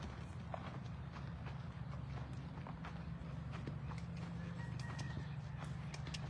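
Horse hooves clop irregularly on the ground amid faint outdoor noise, with occasional snorts and shuffling, fairly quiet and close.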